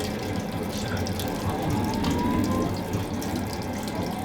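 Water runs from a tap in a cramped sleeper train compartment, a steady hiss and splash close by, mixed with faint mechanical rattling from the moving train.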